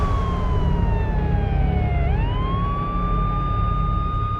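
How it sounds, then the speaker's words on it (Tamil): An ambulance siren wails loud and close, a long falling then rising electronic tone over a constant rumble of traffic. "இது ஆம்புலன்ஸ் சவுண்டு."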